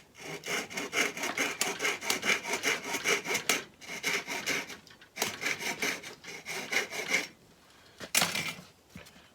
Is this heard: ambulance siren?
no